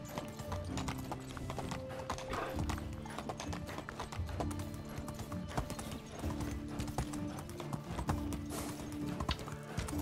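Steady clip-clop of an ibex's hooves trotting over hard ground in a video game, loud and close, with a brief animal call, no talking.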